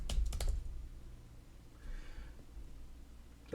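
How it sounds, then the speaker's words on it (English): A brief quick flurry of keystrokes on a computer keyboard, quiet and close, then fades into faint room hiss. "type in IReplacer."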